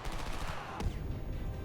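Quiet, dense gunfire from the war shooter Homefront, a steady automatic clatter that holds for the whole short stretch, with one sharper crack partway through.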